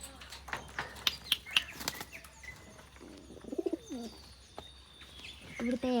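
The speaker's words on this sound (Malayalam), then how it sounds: "ഒരുപാട് പ്രാവുണ്ട് കേട്ടോ" Pigeons coo in an open area shared with cows. Soft, throaty cooing phrases sit close by among several sharp wing flaps and a few chirps, with a faint voice in the background.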